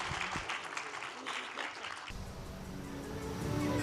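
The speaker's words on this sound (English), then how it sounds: "give a round of applause to our excellent panelists" Audience applause for the panelists at a DigitalXADB 2024 conference session: a fairly quiet wash of many hands clapping for about two seconds before it cuts to a different, steadier background sound.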